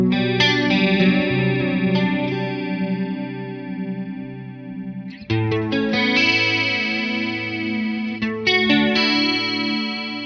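Electric guitar through a Boss GT-1000 80s chorus patch with a slight edge, strummed chords ringing with wide shimmering modulation, loud and continuous with a fresh strum around midway and again near the end.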